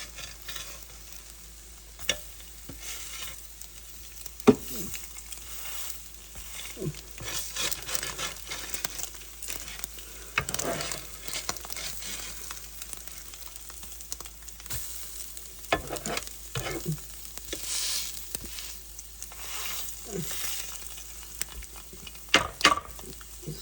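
Eggs sizzling in a pan as filling for a quesadilla, a steady low fry with scattered scraping and stirring sounds close by, and no one speaking.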